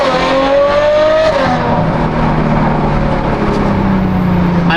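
A Ferrari engine screams at high revs, a loud, strained howl that drops in pitch as it eases off, then settles into a lower steady drone, close and with no voices.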